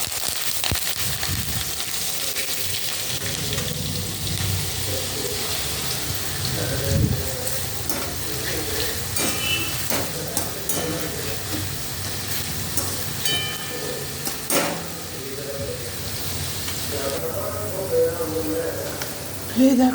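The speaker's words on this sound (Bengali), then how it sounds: "এই দেখো এখনো এই আলুটা ভাজা হচ্ছে।" Potato pieces fry slowly in a pan on a gas stove for crispy aloo bhaja, a steady sizzling hiss with faint clinks, while someone talks throughout.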